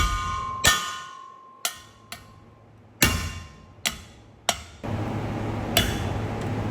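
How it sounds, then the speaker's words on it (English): Metal hammer blows strike the side of a U-joint cap on a 1992 Dodge Cummins driveshaft, about eight sharp, ringing clanks at irregular intervals, close and loud, with a low hum between strikes. "Another thing you can do too is hit on the side of the U-joint."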